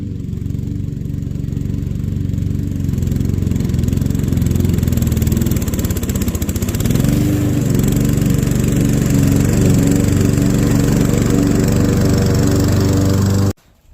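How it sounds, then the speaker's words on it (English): A lawn mower runs continuously at close range, its engine dropping and straining as it bogs down while cutting grass too low, then laboring on steadily until it cuts off abruptly at the end. "So you guys can listen to the sound of the mower, and here you'll really start hearing the mower bog down"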